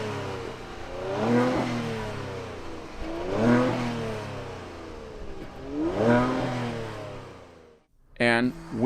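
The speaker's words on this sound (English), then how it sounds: "Listen to that engine." A 2022 Kia Stinger GT engine revs three times in rising and falling sweeps, each climb loud and close, then a short gap and a sharp final blip at the end.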